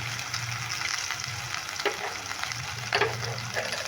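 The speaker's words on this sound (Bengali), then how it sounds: "এবার মশলাটা আমি ভালো করে নেড়ে নিচ্ছি" Ground spices, including ginger paste, cumin, coriander and turmeric, frying in oil in a pan for a Kashmiri-style potato curry, with a steady sizzle and periodic scraping stirs, close and alone.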